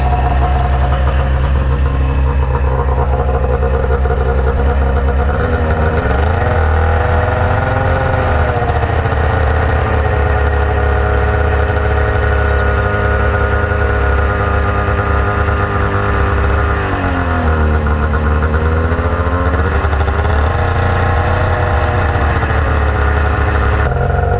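A 1999 Arctic Cat ZR600 snowmobile engine runs loud and steady, its pitch rising and falling through a couple of revs as the clutch engages, with no talking over it.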